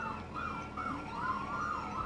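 An ambulance siren wails nearby in a steady up-and-down pattern, with faint traffic rumble underneath and no talking.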